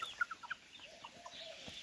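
Chickens and a big rooster cluck nearby in a farmyard, a quick run of short, sharp clucks at first, then softer scattered calls over a quiet background.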